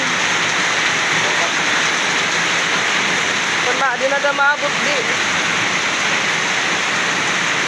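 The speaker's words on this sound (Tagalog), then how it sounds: "Yan, malakas ang ulan." Heavy rain pours continuously in a loud, hissing roar, with a brief voice speaking in Filipino partway through.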